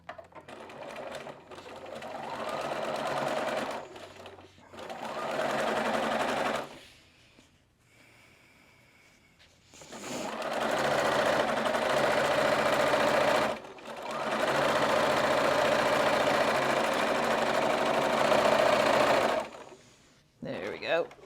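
Sewing machine stitching fabric along a quarter-inch seam, running in long steady bursts with brief pauses between, loud and close, with faint talk in the gaps.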